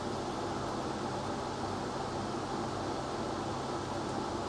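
A Lidl SilverCrest portable air conditioner running at its lowest 16-degree setting, giving a steady, even broadband hum and whoosh of fan noise that stays constant throughout, with no voices.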